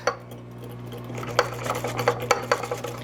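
Keto bun batter made with pasture-raised eggs is mixed in a dish, a utensil clicking and scraping against it in a quickening series of light taps, close and moderately loud, with no talk.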